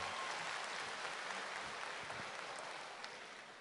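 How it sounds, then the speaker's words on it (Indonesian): A crowd at an Indonesian stand-up comedy show claps in sustained, dense applause, steady at first and gradually tapering off, with no speech over it. "UGM boleh tepuk tangan sekali lagi UGM."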